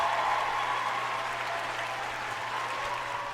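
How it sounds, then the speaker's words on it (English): Steady applause from a crowd fills the whole stretch, even and sustained at moderate loudness, with no distinct voices above it. "Round of applause for that dude."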